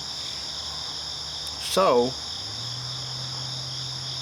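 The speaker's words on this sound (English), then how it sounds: "all the crickets are out there chirping with some frogs" Crickets chirp outdoors on a still morning with some frogs, a steady high insect drone running throughout, while a brief spoken word cuts in and low traffic hum fills the background.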